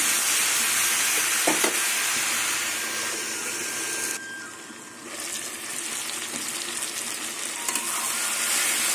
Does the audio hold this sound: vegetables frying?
yes